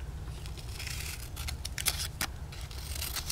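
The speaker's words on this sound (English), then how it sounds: "with our scissors, we're going to cut those strips into triangles" Scissors snip through paper strips, cutting them into small triangles, with a few crisp close cuts standing out over a steady low background hum.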